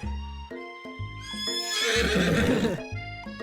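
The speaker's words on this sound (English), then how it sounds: "Colonel Sanders' horse is truly a thing of beauty." A horse in a dating-simulator video game whinnies loudly with a long, shrill, quavering neigh, accompanied by soft hoof clops and a tonal musical backdrop.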